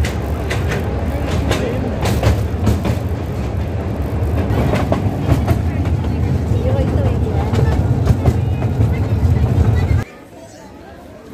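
Inside a moving train, a steady rumble of wheels on rails runs loud and continuous, with faint clicks and people talking over it, until the noise suddenly drops away near the end.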